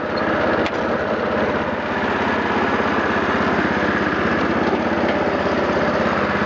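A Massey Ferguson 14 horsepower riding mower engine runs steadily nearby, a loud, even, rapid putter with no breaks throughout.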